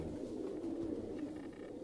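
Breeder pigeons at a pigeon club coo softly in a steady, low murmur, the calls close and continuous with no other sounds over them.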